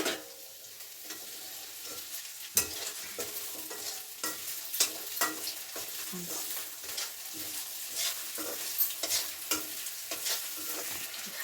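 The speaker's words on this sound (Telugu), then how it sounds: "మొత్తానికైతే బ్రీఫ్ అయితే అయిపోయింది డీప్ ఫ్రై చేసినాము ఇప్పుడు మళ్ళీ వీటికి ఫ్రై చేస్తున్నాం" Chicken pieces frying again with green chilies and onions after deep frying, a steady hiss of oil with frequent crackles and spoon stirs, moderately close and even.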